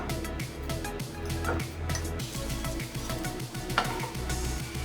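Chopped dates cook in ghee in a pan. A soft, low sizzle runs under repeated stirring scrapes and light clinks, fairly quiet and close.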